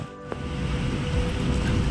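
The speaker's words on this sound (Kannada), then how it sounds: "ಮಳೆ ಫೈನಲಿ ಬರ್ತಾ ಇದೆ." First rain of the season falling outdoors in a village near Shivamogga, a steady broadband hiss that swells slightly and holds loud and continuous, with no voices.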